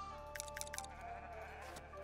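Sheep bleating in the video game Foundation, three short quick bleats in a row followed by a longer drawn-out one, over a faint background tone.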